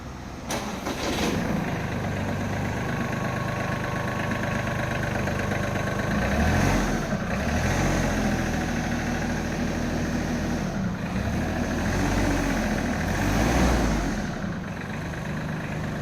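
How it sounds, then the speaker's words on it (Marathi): A Captain 283 4WD 28 HP tractor's diesel engine idles steadily nearby, a low continuous chugging with occasional throaty surges. "आता मी तुम्हाला या ट्रॅक्टरची फायरिंग ऐकवणार आहे"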